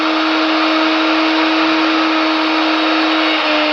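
An electric drill from the 1950s runs continuously at steady speed, a loud, unbroken motor whine and hum heard up close with no pauses.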